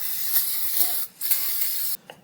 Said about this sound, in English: I got a can of brake clean, and we're just going to kind of spray it down just a little bit.